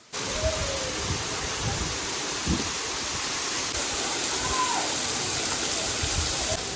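Water spills from the rock inside a small cave and splashes straight onto a Shiva lingam at a shrine near Anjani waterfall in Saputara, Gujarat, making a continuous close hiss of falling water throughout.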